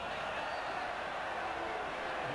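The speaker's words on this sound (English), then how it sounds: "Newcastle crowd calling for a forward pass." Rugby league crowd at a 1994 Balmain versus Newcastle match, the Newcastle fans sending up a steady, broad roar of shouting to call for a forward pass, sustained and fairly distant throughout.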